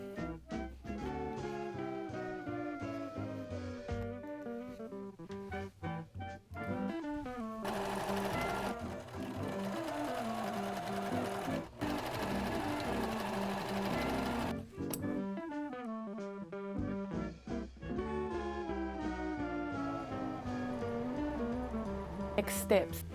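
A sewing machine stitches the neck and back of a 1940s-pattern dress made from thrifted vintage fabric, running in short bursts of rapid mechanical whirring separated by brief pauses, with background music underneath.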